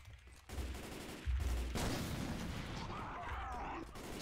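Video game gunfire comes in dense bursts of rapid shots, loud and steady over a few seconds with a low rumbling bed beneath.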